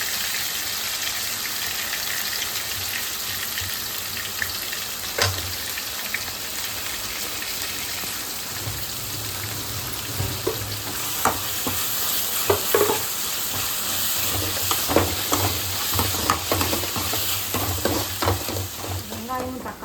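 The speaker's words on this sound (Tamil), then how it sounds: "வெங்காயம் தக்காளி வதங்கிச்சு." Onions and curry leaves fry and sizzle steadily in a pan, with a spoon stirring and scraping now and then, a close continuous crackle throughout.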